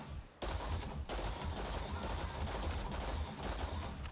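Gunfire aimed at an animal in a video game: a sudden burst after a short quiet opening, then dense, sustained crackling shots and booms at a steady loud level, no talk.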